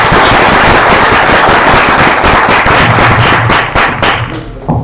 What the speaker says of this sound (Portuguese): Salva de palmas para...